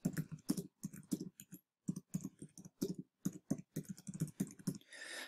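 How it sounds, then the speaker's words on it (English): Fingers type quickly on a computer keyboard, close and fairly quiet, as irregular bursts of crisp key clicks with short pauses between them. "all you need to do is just type it in."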